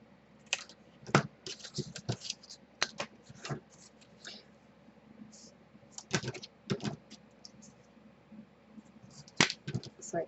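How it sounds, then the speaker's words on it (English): Scissors snip paper strips for a handmade mini album, a close run of crisp, irregular cuts in small clusters separated by short pauses. "So now I'm just going to cut my strips to the length I need."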